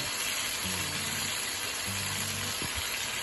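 Chicken and grated garlic sizzle steadily in a hot pan as they are stirred, a constant frying hiss running throughout with a couple of soft scraping, stirring passes.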